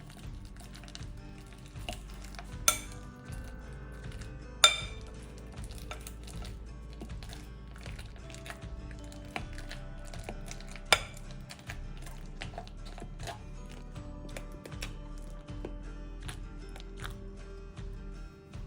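Peeled bananas, 800 grams in all, being mashed into a paste in a large mixing bowl, giving irregular soft clattering and scraping, with a few sharper knocks of the utensil against the bowl.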